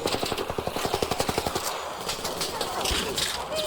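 Rapid automatic gunfire in the video game ARC Raiders, a close burst of evenly spaced shots for about a second and a half, then giving way to a rumbling mix of game noise with voices talking over it.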